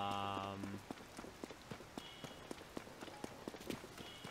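Rain patters lightly and unevenly in Zelda: Tears of the Kingdom, soft scattered drops over a quiet background, after a brief tonal game chime fades at the start.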